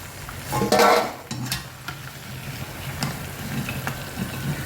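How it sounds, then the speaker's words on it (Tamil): Maida flour chips fry in hot oil with a soft steady sizzle, and a brief louder stir or scrape of a utensil in the pan comes near the start. "பக்குவமாக பொறிச்சு எடுக்கணும்"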